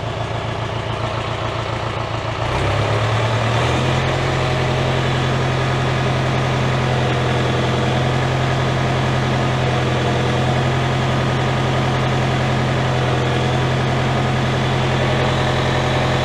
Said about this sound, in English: I can hear the engine struggling right there.